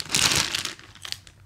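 Plastic bag crinkling loudly and close while being unpacked after a trip, busy rustle for the first half second, then fading into quieter scattered crackles.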